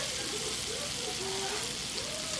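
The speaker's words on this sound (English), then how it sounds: "I'm melting some butter" Butter melts in a skillet with a soft, continuous sizzle and faint crackle, quiet and steady, with a voice faintly audible underneath.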